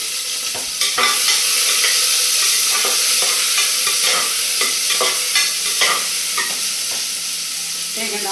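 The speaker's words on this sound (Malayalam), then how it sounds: "അമ്മുക്കുട്ടനൊക്കെ കണ്ടോ ഉള്ളി ഇങ്ങനെ വഴറ്റിക്കൊണ്ടിരിക്കുന്നു" Onion sautéing in a pan for sambar, a loud continuous sizzle broken by a series of scraping, clinking stirs at an uneven pace, with no voices.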